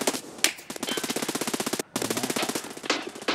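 Video game gunfire comes in fast automatic bursts, each shot a sharp, evenly spaced crack, with short pauses between strings of rounds, close and fairly loud.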